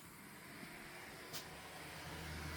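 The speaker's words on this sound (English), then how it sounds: "it's surprising to hear a car out here" A faint, low rumble of a car passes somewhere far off in a quiet, remote rural spot, rising slightly toward the end with no voices over it.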